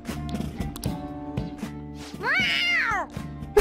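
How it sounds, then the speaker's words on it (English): A cat meows in the video game Persona 5, one clear rising-and-falling meow heard close after a stretch of quieter game sound. "A cat?"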